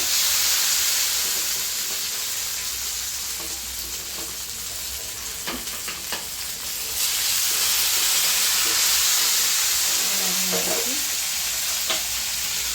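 Moong dal and other ingredients roasting in a pan for payasam, a steady sizzling hiss broken by scattered scraping stirs and clinks, close and without talk.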